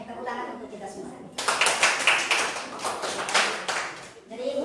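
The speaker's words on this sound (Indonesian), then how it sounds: "tepuk tangan untuk kita semua" Clapping from a classroom of students during a maths lesson, a burst of quick, dense hand claps that starts abruptly and runs for a few seconds, with voices around it before and after.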